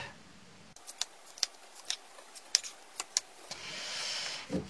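A deck of tarot cards being cut by hand, giving a series of sharp, crisp card snaps and riffles at a steady, irregular pace, close and fairly quiet, with a soft rushing shuffle near the end.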